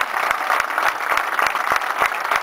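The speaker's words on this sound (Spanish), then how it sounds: "Y si vamos con un fuerte aplauso" A crowd claps steadily at an outdoor football club event as the first-team squad of Club Magallanes walks out, with dense, continuous applause and sharp individual claps standing out nearby.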